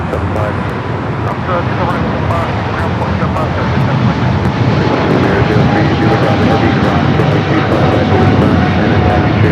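Aircraft engines roar steadily at Los Angeles LAX airport, a loud continuous broadband drone that builds slightly, with radio-style voices talking underneath.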